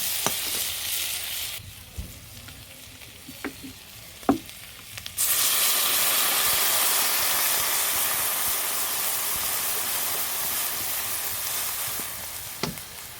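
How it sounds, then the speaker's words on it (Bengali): Gravy poured into a hot pan of fried food bursts into a loud, steady sizzle with steaming hiss that holds for several seconds, after a few quieter stirring clinks and scrapes. "এবার আমি ঝোলটা দিয়ে দেবো।"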